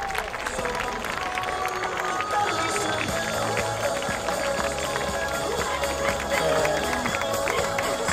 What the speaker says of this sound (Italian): Facciamo un applauso ai cani mentre sfilano